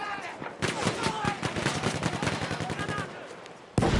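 Shotguns fire in a fast-paced video game, a dense string of sharp, loud blasts in quick succession, with game noise behind and a burst at the very end.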